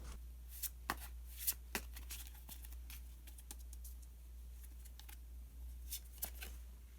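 Tarot cards are shuffled and drawn in quiet, close, scattered papery flicks and taps over a steady low hum, with no talking.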